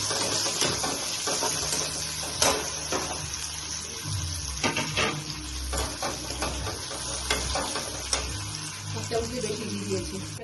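Ghee sizzles and crackles in a pan during veg fried rice cooking, a busy frying hiss with clatter and splashing bursts, close and moderately loud, with a voice talking faintly in places.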